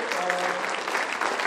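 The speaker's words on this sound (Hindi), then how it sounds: "आप सबसे रिक्वेस्ट है कि जोरदार खड़े होकर तालियों से स्वागत करिए एक बार।" An audience claps in welcome for a senior branch manager arriving at a meeting: steady, sustained applause from a sizable crowd, with a voice faintly audible over the clapping.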